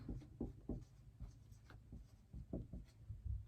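Pen or pencil writing by hand on paper, a faint series of short scratchy strokes and taps with small pauses between them.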